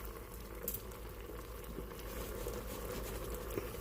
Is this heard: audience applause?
no